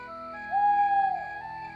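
An owl's hoot imitated by a cartoon character's voice, a single sustained whistly tone that swells, holds briefly and fades, soft and alone.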